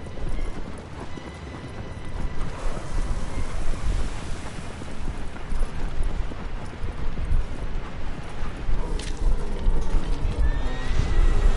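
A horse in the Shadow of the Colossus video game gallops with steady, rapid hoofbeats while whinnying over a broad rushing ambient wash, fairly loud and continuous.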